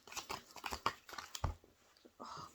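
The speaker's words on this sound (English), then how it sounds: "I'm getting annoyed with myself throwing these cards on the floor." Tarot cards are tossed onto a floor in a string of quick, soft slaps and papery flicks, close and fairly quiet, arriving in an irregular rhythm.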